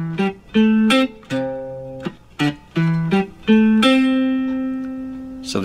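Clean guitar plays a riff on a major pentatonic scale, a bright sequence of plucked notes with a steady bouncing rhythm, ending on a long sustained note.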